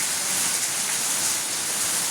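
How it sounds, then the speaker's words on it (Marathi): Rain falls steadily in Pune district, a loud even hiss of drops with no pauses and no voices. "आमच्या पुणे जिल्ह्यात तर चालू आहे बघा पाऊस छानपैकी पाऊस चालू आहे"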